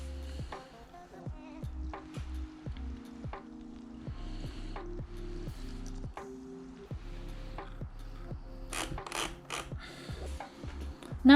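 Domestic sewing machine stitching a narrow baby hem on silk fabric, delivered in short mechanical runs of rapid needle clatter with brief pauses between bursts, close and steady, plus a few sharp clicks near the end.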